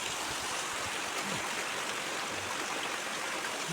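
Rainwater running beneath a house at Matikona Bazar after days of heavy rain, a steady rushing flow like a small stream, close and continuous throughout with no voices.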